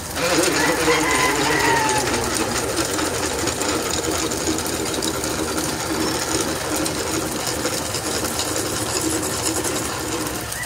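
An electric cylinder boring machine runs through an engine liner rebore with a continuous buzzing, rattling drone that is loud and close and holds steady. Someone speaks over it.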